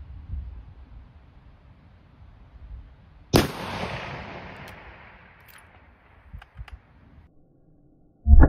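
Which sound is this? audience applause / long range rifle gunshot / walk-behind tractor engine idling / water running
long range rifle gunshot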